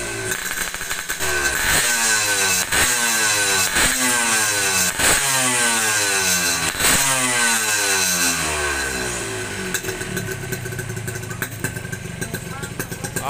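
A motorcycle fitted with an Altec C20RR exhaust revs repeatedly, with sharp rhythmic throttle blips rising and falling over a rough, close, loud engine note.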